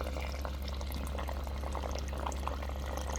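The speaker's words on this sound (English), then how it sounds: "it's moving a lot of water out of there" A Pawfly aquarium filter pumps and agitates water, producing a quiet, steady bubbling splash over a constant low electrical hum.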